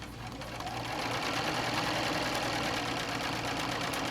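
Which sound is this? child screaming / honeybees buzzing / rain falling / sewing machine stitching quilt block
sewing machine stitching quilt block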